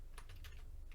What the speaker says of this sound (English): Well, you have to finish typing.